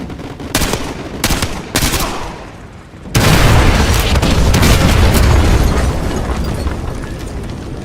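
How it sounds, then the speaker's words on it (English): Artillery strike explosions in the Modern Warfare video game: a few heavy booms in the first seconds, then a sustained loud roar of blasts and rumbling debris, close and continuous to the end. "Use your laser designator. Fire mission received. Artillery inbound."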